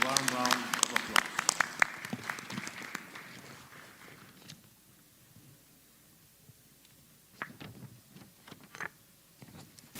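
Applause from an audience at a corporate annual stockholders' meeting, a dense burst of clapping that fades out after about four seconds, followed by a quiet room with a few scattered claps and light background noise.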